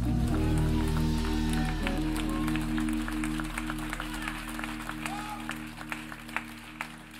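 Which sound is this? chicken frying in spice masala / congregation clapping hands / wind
congregation clapping hands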